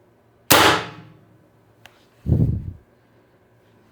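A Pistelle X-68 gas air gun, low on pressure at about 400 psi, gives one sharp loud crack that fades quickly, a faint click, then a short duller hissing thump.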